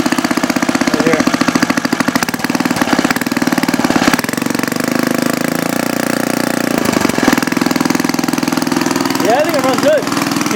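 A small engine on a motorized scooter with a swapped engine and carburetor runs loud and close, holding a steady buzzing drone throughout, while someone talks over it.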